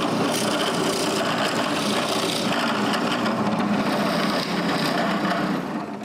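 Drill boring the shoulder holes into a wooden nutcracker arm, a steady loud grinding, rasping bite into wood that runs continuously for about six seconds and tapers at the end, with no talk.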